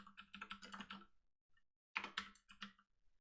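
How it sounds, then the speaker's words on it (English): Someone types on a computer keyboard while entering text into an input field, producing a quick run of soft key clicks, a short pause, then a second burst of keystrokes, close and fairly quiet. "start typing"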